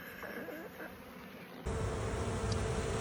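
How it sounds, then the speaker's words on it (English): Steady buzzing of many honeybees close by as a swarm is hived, with fanning bees at the hive entrance, a continuous droning hum that grows louder and fuller partway through. "you can see the little fanning bees doing their bit, and the struggling flying bees going into the hive"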